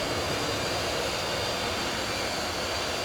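Steady broadband jet roar of an SO-4050 Vautour IIN taking off in Microsoft Flight Simulator, a loud, unbroken engine rush with a faint high whine throughout, no talk.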